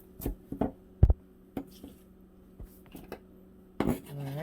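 Knife chopping through long cilantro stems on a cutting board, a handful of sharp, separate close-up chops spread unevenly with short pauses, with a faint background hum.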